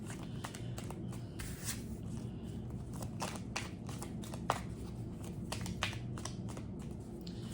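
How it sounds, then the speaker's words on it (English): Tarot cards being shuffled by hand, giving a steady run of close, soft papery riffles and taps over a low background hum, with no talking. "Shuffle this real good."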